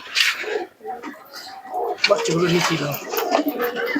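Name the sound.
pigeons cooing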